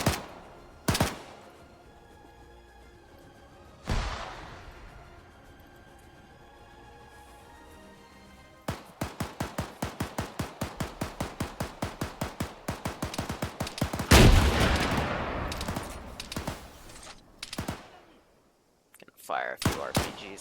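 A weapon cache going off in the survival game Taviana: a few isolated loud shots, then a long, rapid and evenly spaced string of bangs, with a heavy blast partway through and sporadic cracks trailing off.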